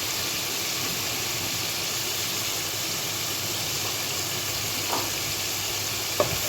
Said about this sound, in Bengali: কড়াইতে প্যানেতে একটু তেল দিলাম, দিয়ে চিংড়ি মাছগুলোকে ভাজার পালা।